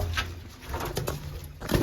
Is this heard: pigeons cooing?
yes